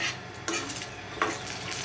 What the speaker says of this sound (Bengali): প্রথমে তেল গরম হয়ে গেছে, এরপর বড়িগুলো দিয়ে দেবো